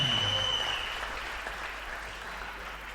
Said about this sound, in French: Acclame Jésus. Oh, bien-aimé, acclame bien pour la parole.